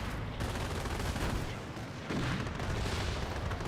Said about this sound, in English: I hear a flak 88 nails one of the airborne squads